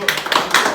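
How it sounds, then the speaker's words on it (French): Audience applause greets a contestant who has just been eliminated from a competition show, a short burst of steady, close clapping with no voices over it. "Ils t'applaudissent."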